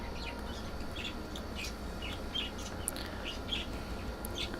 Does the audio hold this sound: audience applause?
no